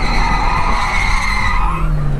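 A BMW 740i V8 with 300 hp slides and its tires skid, a loud sustained squeal running steadily for about two seconds over the engine, close up and with no talk.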